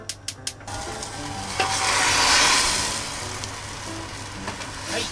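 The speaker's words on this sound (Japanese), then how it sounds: "火をつけてアルコール飛ばします" Sake and mirin simmering in a pan on the stove as the alcohol cooks off, a steady close sizzle and bubbling hiss that swells in the middle, opened by a few sharp clicks of the burner lighting.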